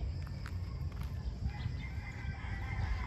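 Backyard pet chickens cluck and call softly at a distance over a low, steady outdoor rumble, with a brief crow-like call rising partway through.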